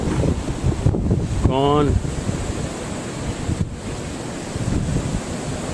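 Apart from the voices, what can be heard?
strong wind during a winter storm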